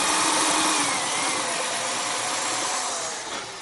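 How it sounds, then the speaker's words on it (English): Power drill pre-drilling a couple of holes in a thin piece of salvaged wood, a steady high whirring that holds nearly constant and then tails off slightly at the end, close and alone. "just come in here and pre-drill a couple of holes"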